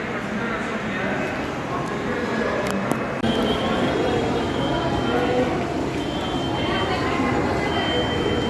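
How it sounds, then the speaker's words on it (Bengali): A metro train at a station platform, heard as a steady loud rumble of rolling rail noise with a brief screech, and people talking nearby. "মেট্রোর জন্য অপেক্ষা করছি, 7:28 মেট্রো"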